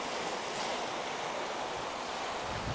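Calm sea waves wash steadily along the rocky north coast of Yonaguni Island near Kubura, Japan's westernmost island. The surf makes a continuous soft roar with no voices.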